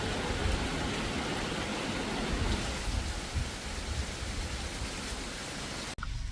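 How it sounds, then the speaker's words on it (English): Steady rain falls on a farm on a rainy day, a dense, even hiss of drops with a low rumble underneath, continuous throughout before a brief break near the end. "this is the rainy day that we're experiencing here on the farm"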